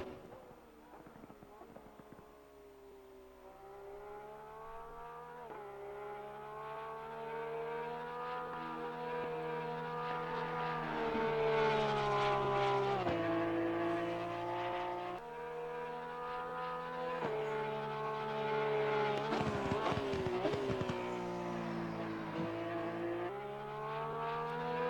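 Porsche 911 GT3 R race car engine in Assetto Corsa Competizione at Barcelona, a loud harmonic drone rising through the gears with repeated upshift drops and downshift blips, continuous throughout.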